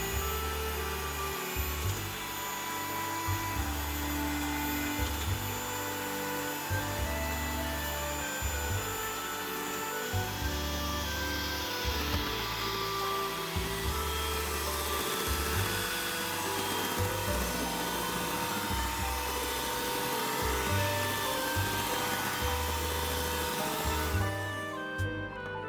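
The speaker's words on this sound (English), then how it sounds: "This time I'm going to use a hand mixer." An electric hand mixer whisks tiramisu cream mixture in a bowl, giving a steady, moderately loud motor whirr with a pulsing beater rhythm that runs continuously and stops at the very end.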